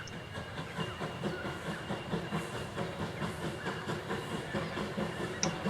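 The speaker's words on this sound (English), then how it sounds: "shunting engine Allison is making its way back into the station" Shunting engine Allison rolls back into the station on the Richmond Vale line during Hunter Valley Steamfest, with a steady rhythmic clatter of wheels over rail joints and a soft steam hiss.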